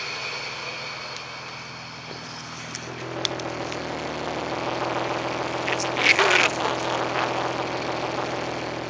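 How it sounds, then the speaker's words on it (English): A car engine idles steadily with a low exhaust rumble heard close up, the tone rising slightly partway through with a few faint clicks. "so you can hear the exhaust better."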